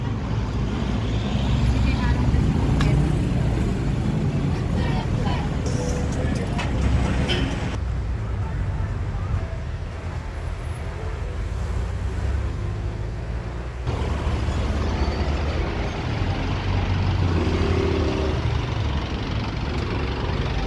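Steady road traffic on a busy street in Baguio City, near the queue to the Botanical Garden: a continuous wash of car and bus engine noise, idling and passing at close range, with crowd voices mixed in throughout.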